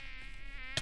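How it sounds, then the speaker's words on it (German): Mosquitoes buzzing in the Minecraft game world, a thin steady high whine with wavering pitch that carries through the whole short moment, ending in a brief louder broadband burst. "Schon wieder Mücken."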